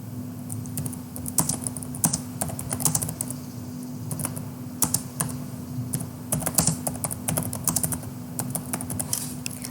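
Someone types a book title on a computer keyboard, a steady stream of close, clicky keystrokes with irregular rhythm and a faint constant hum underneath.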